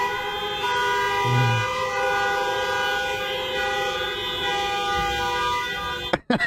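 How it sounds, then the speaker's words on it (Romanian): Car horns blare at a Mega Mall parking lot in Bucharest on a Black Friday night, a steady sustained honking chorus that holds for about six seconds before cutting off. "Conceptul de a claxona în parcare."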